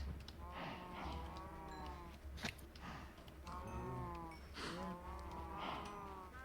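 Cattle moo repeatedly over several seconds, long drawn-out lowing calls from more than one animal at moderate distance, with a steady low rumble of background noise and a brief sharp knock in the middle.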